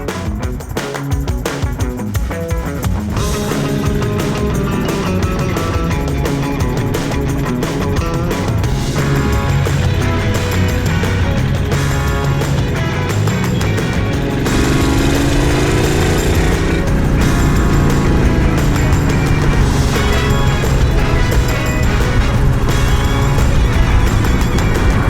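Engine of a 1973 Dodge Gran Coupe with a three-speed column shift roaring loudly and continuously, a dense, steady mechanical rumble filling the whole stretch without voices.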